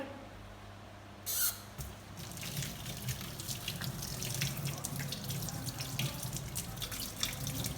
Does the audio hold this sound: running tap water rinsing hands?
yes